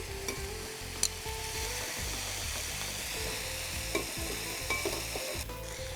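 Chicken frying in a pan gives a continuous sizzle with a steady low rumble and a few sharp scrapes and clicks of stirring, close by and without any talking.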